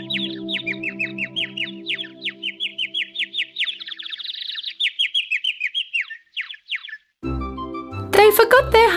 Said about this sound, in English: The bird chirped songs with its beautiful voice for them.